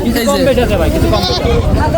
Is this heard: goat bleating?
yes